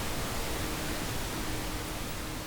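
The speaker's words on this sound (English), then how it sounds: "The way we get around this is by using pink noise." Steady, even pink noise, a broadband hiss with a deeper, softer character than white noise, continuing unchanged at constant loudness for a couple of seconds.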